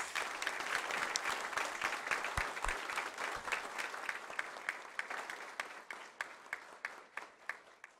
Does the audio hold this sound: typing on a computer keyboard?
no